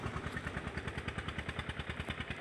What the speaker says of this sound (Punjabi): ਇਹ ਜਾਂਦੇ ਨੇ ਟਰੈਕਟਰ ਦੇ ਵਿੱਚ